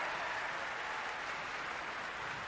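Audience applause at a fitness competition's athlete welcome on stage, a steady wash of clapping heard from a distance without pause, fairly faint.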